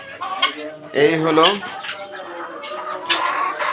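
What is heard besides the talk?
chickens clucking on a farm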